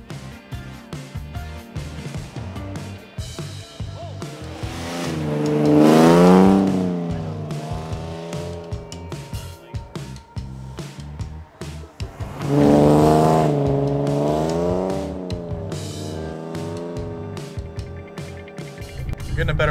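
A rear-wheel-drive BMW E30 rally car drives a snowy stage at a snow drift rally, its engine rising and falling in pitch through two strong revving surges, close and loud, with a voice talking over it.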